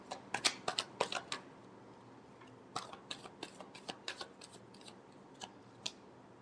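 A deck of tarot cards is shuffled in quick crisp riffles, first a dense flurry, then a pause, then a sparser run of light snaps, quiet and close.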